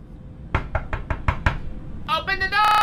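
Six sharp knocks strike a door in a quick, steady rhythm, loud and close, followed by brief tonal sound effects at the end.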